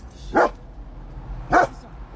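A dog gives two sharp, close barks about a second apart, with quiet background between them.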